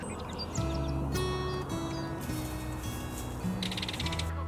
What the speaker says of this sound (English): you can hear all the birds that breed in here